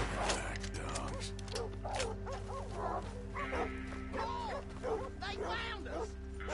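Several dogs bark and yip repeatedly in Red Dead Redemption 2, sharp overlapping barks in bursts over a steady mechanical hum, at moderate distance with talk mixed in.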